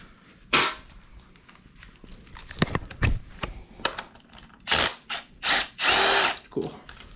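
An impact wrench loosens parts on an L67 engine during teardown, firing in several short, loud, rattling bursts among quieter clicks and handling noises nearby.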